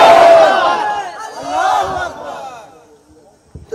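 Crowd at a religious sermon gathering roaring the Nara-e-Takbir slogan in unison, a loud, swelling chorus of voices that rises twice and then fades into quiet near the end.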